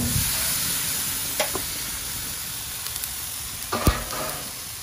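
Slices of gemsbok loin meat frying in a pan, a steady loud sizzle and hiss throughout with a few light clinks of a utensil, no voices.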